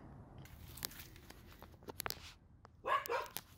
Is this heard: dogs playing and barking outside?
yes